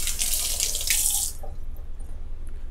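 Tap water gushes into a kitchen sink as vegetables are washed, a loud close hiss that cuts off partway through, leaving a low hum and faint drips.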